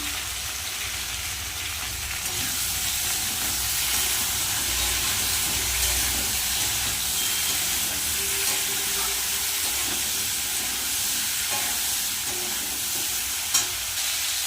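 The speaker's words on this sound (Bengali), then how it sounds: "সবজিগুলো একটু হালকা ভেজে দেবো দিয়ে দেবো হলুদ দিয়ে দেবো নুন" Vegetables fry lightly in a pan with turmeric and salt for a Bengali veg thali, giving a steady close sizzle and hiss throughout, with faint stirring scrapes and a small clink near the end.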